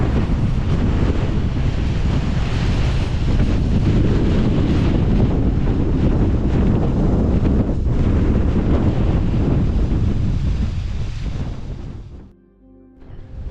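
Strong wind buffets the microphone on an exposed Lake District fell ridge near Seathwaite Fell, a loud continuous roar and rumble that drops away sharply near the end.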